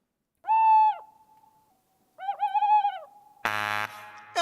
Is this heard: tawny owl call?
yes